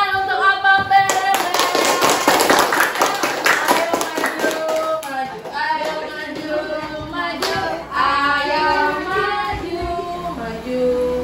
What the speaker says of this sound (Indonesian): Tepuk tangan untuk Apam Berebey.